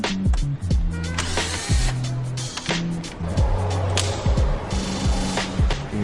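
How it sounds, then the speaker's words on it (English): Screws come out of the center portion of a T-Rex billet grille, driven by a power tool in short whirring bursts with pitch sweeps, separated by clicks and brief pauses, close and fairly loud. "it's just a question of removing all these screws around the outside"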